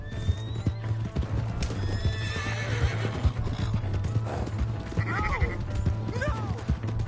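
A horse in Red Dead Redemption 2 gallops with rapid clip-clop hoofbeats and lets out loud neighs and whinnies, close and busy, with game background sounds mixed in.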